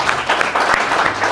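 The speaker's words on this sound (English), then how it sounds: "can we all give a round of applause for the Mamelodi Sundowns new sporting director" Audience applause for Mamelodi Sundowns' new sporting director, a short dense burst of many hands clapping at an event, loud and close.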